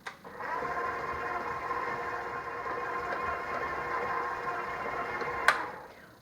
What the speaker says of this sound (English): I'm going to mix this again for another 10 seconds.